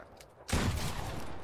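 Gunfire in the video game Fortnite during a box fight: a loud sudden burst of shots starting partway in, followed by a sustained noisy rattle and ringing decay, with no talking.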